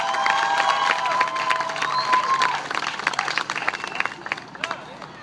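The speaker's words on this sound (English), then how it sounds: "could y'all please put your sodas down, put your drinks down, clap it up for me" Crowd applause with cheering at a comedy show in Homestead, Florida, loud and dense at first, then thinning into scattered claps and whoops over about five seconds.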